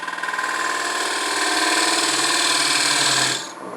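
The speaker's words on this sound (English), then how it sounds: "Take this detail gouge and just come in here and take it down some." A detail gouge cuts a spinning bottle stopper blank on a wood lathe, making a steady, loud rasping whir with a fast ripple that holds for a few seconds and then drops away as the tool lifts.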